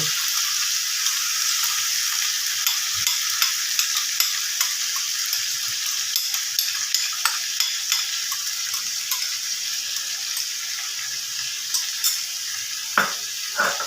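Kashmiri chicken sautéing with yogurt in a pan: a steady broad sizzle runs throughout, broken by frequent small scraping clicks from stirring and a sharper knock near the end, close and fairly loud with no talk.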